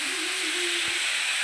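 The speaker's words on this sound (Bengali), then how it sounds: "লাউটাকে ভালো করে একটু ভেজে নেবো," Pieces of tender bottle gourd fry in hot oil with a steady, loud, close hiss and sizzle that continues without a break.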